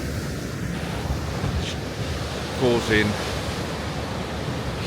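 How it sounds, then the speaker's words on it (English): Ocean waves break against a massive rock ledge at Spekes Mill on the coast, a loud continuous roar of surf mixed with wind buffeting the microphone, with a few words spoken briefly partway through. "the sea is breaking against this massive ledge"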